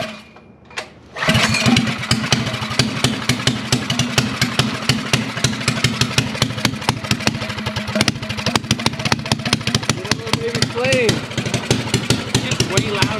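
A minibike engine still on choke catches after a brief start attempt, then runs loud and close with a rough, rapid, uneven putter and occasional revving.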